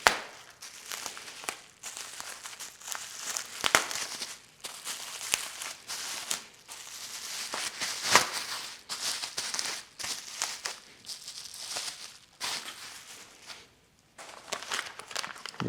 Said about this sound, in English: And I'm going to remove some of this packaging.